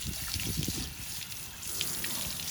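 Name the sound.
water rinsing dirt off car exhaust tips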